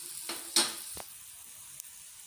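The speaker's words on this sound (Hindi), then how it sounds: "आराम आराम से पराठा पकाइएगा" Radish paratha cooking with ghee on a griddle, a faint, quiet sizzle with a few soft crackles and a brief scrape, no voices.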